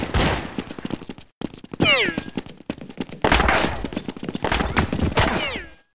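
Rapid gunfire in Counter-Strike 1.6 on the de_golhisar map: dense automatic bursts with sharp close shots and ringing shell or ricochet tones, loud and nearly continuous for six seconds.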